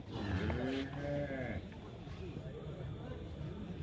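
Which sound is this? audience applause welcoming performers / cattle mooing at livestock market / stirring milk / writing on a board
cattle mooing at livestock market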